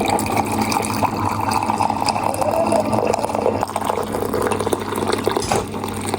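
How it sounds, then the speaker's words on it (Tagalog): Water pours steadily into a container nearby, a continuous splashing, filling sound lasting several seconds. "Magdagay tayo ng tubig."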